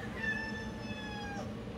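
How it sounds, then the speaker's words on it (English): A cat gives one drawn-out, tonal meow lasting over a second, fairly clear against a quiet room's low background hum. "cat whole video, nice and quiet, and then just meow"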